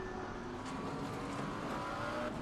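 A McLaren GT4 race car in the racing game Assetto Corsa Competizione drones steadily from the cockpit, a continuous engine hum with no voices.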